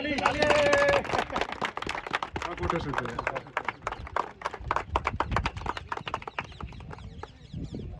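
Loud group clapping from children at an outdoor running event honouring a 62-year-old runner, dense and uneven, with voices talking over it throughout.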